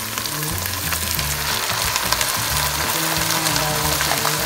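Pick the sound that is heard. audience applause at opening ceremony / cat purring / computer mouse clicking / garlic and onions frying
garlic and onions frying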